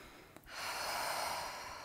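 A deep, drawn-out inhalation during a guided breathing exercise, heard close and alone as a steady airy rush lasting over a second after a brief catch of breath.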